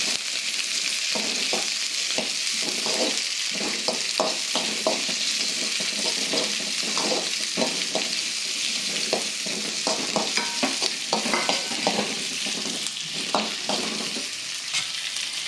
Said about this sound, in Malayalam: ഇനി സവോളയും കൂടി ഇടാം. അപ്പോൾ രണ്ടും കൂടി ഒന്നിച്ച് വണക്കുക.